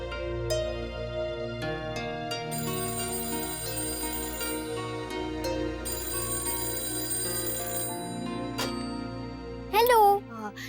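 A telephone rings indoors with repeated bright trilling bursts, moderately loud and close, over faint background sound, with a brief louder burst near the end.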